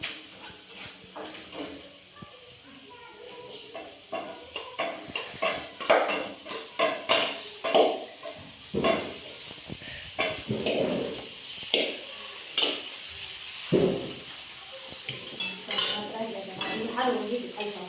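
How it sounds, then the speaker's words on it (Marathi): Leftover cooked rice fried with spices in a pan on low gas, a spoon scraping and clinking against the metal with rhythmic stirring strokes over a faint sizzle, close and fairly loud. "हलवून घेते खालचा मसाला"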